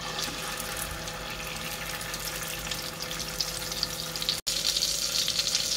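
Eggplant omelette (tortang talong) sizzles and crackles steadily in a hot pan, a continuous close frying hiss with a brief break near the end and no talking.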